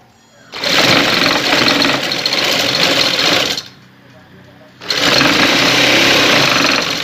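A sewing machine runs in two long bursts of steady, dense whirring while stitching a piping strip onto fabric for a decorative neckline, with a short quiet pause between the runs.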